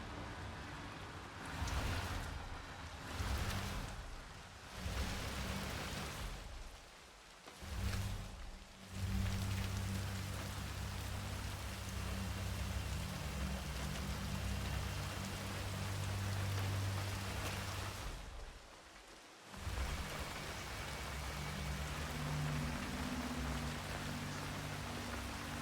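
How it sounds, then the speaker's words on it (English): Steady rain pours in a video game's Hitman 3 story scene, a continuous hiss of drops on surfaces that runs throughout with a few brief dips, moderately quiet and with no talking. "I'm never going out in the rain again."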